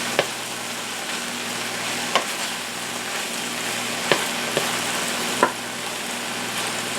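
Okra medley sizzles in olive oil with a continuous close hiss, broken by a few sharp utensil taps and scrapes at uneven intervals; nobody speaks.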